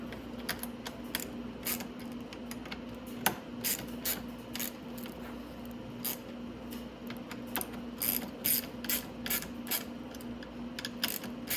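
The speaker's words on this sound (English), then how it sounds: "Now I can also tighten down my handlebars because they're where I want them to be." Ratchet wrench tightening the handlebars on a Venom 1300w electric ATV, with bursts of quick, crisp pawl clicks in uneven runs, close and moderately loud, and no voices.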